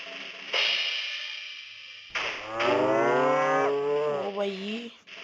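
A cow in an animal simulator video game gives a long, loud, drawn-out moo that rises and then falls, preceded by a shorter burst of game noise, with no talk.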